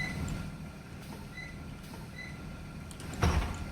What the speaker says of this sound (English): You also have a different door sound too.